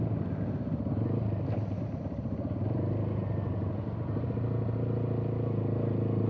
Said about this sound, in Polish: Fajnie buczy ten wydech, tak basowo.